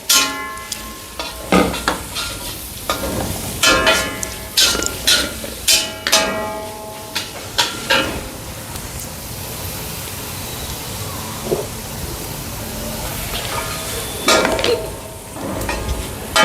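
Capsicum, cabbage and noodles being stir-fried in a pan on a terrace kitchen, with repeated sharp scrapes and tosses of a utensil over a steady sizzle, close and fairly loud throughout.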